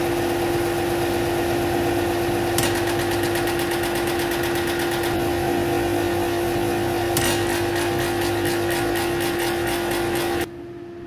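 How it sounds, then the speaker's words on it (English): A belt sander sanding a template runs with a steady motor hum and a sustained tonal whine, with rhythmic rattling from the torn belt, then the sound cuts off abruptly near the end. "Sanding the template over at the belt sander"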